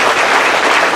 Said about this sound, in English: How about a round of applause for the bartenders,